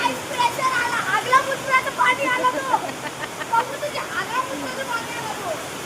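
Dirty rainwater pours off a tin roof in a windy storm, a steady rushing, splashing hiss that runs throughout beneath close, animated talking voices.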